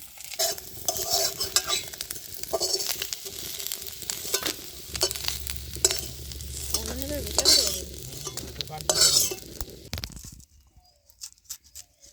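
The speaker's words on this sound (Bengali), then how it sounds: "মাছ ভেজে তুলে নিয়ে কড়াইতে একটু তেল গরম করে দিয়ে দিলাম কাঁচা লঙ্কা কেটে" Chopped green chillies sizzle and crackle in hot oil in a kadai after fish has been fried, with stirring and scraping throughout before the sound cuts off near the end.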